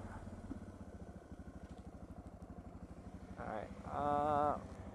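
A Suzuki DR650SE motorcycle fitted with an FCR-MX carburetor idles with an even, thumping single-cylinder pulse, then briefly revs louder and higher near the end before settling back to idle.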